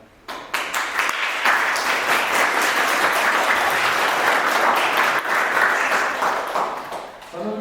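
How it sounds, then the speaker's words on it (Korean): A church congregation at a child's first-birthday worship service breaks into sustained applause, building quickly and holding strong for about seven seconds before tapering off near the end. "이렇게 레아를 지켜 보호해 주시고 그 부모 가운데 함께 해주신 우리 하나님께 놀라운 박수와 찬양과 영광을 돌리기 원합니다."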